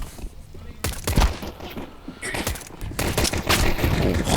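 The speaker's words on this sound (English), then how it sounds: "Just fire away those Glocks, spam away." Glock pistols fire in a competitive video game match, with rapid, dense bursts of sharp gunshots layered together, loud and continuous, joined by other game sounds and a faint voice.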